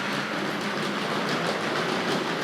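Tri-ang R.150 B12 model locomotive in BR black running along model railway track, a steady, close whirring rumble with soft rhythmic clicking from the rails and no voices.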